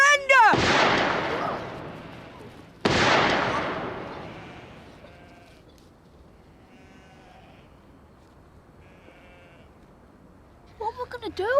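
Two loud, close gunshots ring out in a TV drama scene, each a sharp crack with a long decaying echo, followed by quiet and faint tones before voices return at the end.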